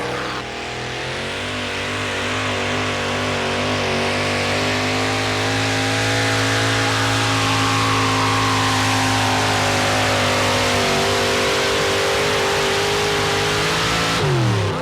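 A 572 cubic inch Chevrolet engine in a four-wheel drive pulling truck revs hard and steadily for a long, loud run, its pitch climbing and holding near, with no talk over it.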